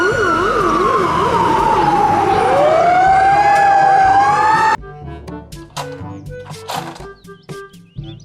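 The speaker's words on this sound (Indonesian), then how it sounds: "Mobil truk pemadam kebakaran." A toy fire truck lets out a loud, close electronic siren that wails and warbles for several seconds, then cuts abruptly to a clipped beeping melody, with no voices.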